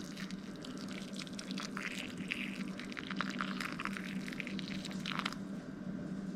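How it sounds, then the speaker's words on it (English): Boiling water pours steadily over udon noodles in a container with a continuous splashing hiss, close and fairly quiet, with no voices. "we add our boiling water."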